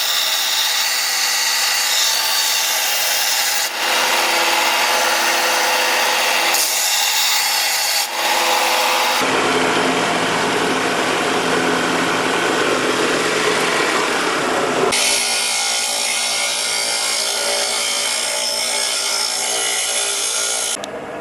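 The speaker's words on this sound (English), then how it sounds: "take this over to the bench grinder and nip it down a little bit" A bench grinder grinds down a steel part from a Dodge Ram front tow hitch, with a loud, continuous abrasive rasp that stays close and steady. Its tone and pressure shift in several stretches as the metal is worked.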